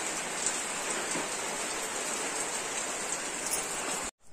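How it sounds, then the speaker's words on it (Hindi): Steady village rain falls with a dense, even hiss of drops on surfaces, close and unbroken, then cuts off abruptly at the end. "देख वर्षा के पूरा"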